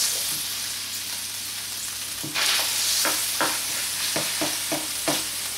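Garlic dropped into melted margarine starts to fry; quiet hiss at first, then louder sizzling with a run of rhythmic stirring scrapes from a spoon against the pan, close and without speech.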